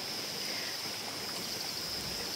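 Natural mountain spring water runs in a steady, even rush from a hillside outlet, a continuous close wash of flowing water with no voices.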